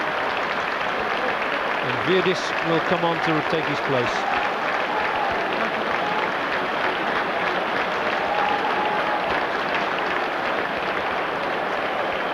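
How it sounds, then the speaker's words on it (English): Football stadium crowd offering sympathetic applause for an injured player during a European Champions Cup match, a broad distant roar of clapping and crowd noise sustained throughout, with a commentator talking over it. "Sympathetic applause then for Ruud Gullit."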